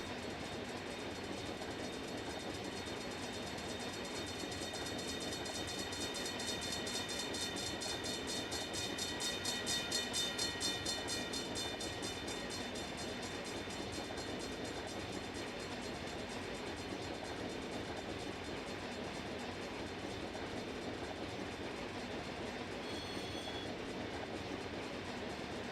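Freight train rolling along in the Run 8 train simulator near Bakersfield, a steady droning rumble with clicking wheel rhythm and a faint high whine, continuous and even, heard from the cab at the front.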